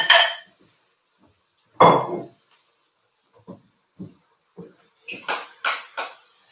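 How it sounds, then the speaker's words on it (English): Chicken thighs, parsley, carrots and onions are stirred in a pan with a spoon, giving a series of separate clinks and scrapes, quiet and spaced at first, then quicker and brighter. "Okay, and you just want to start stirring that around."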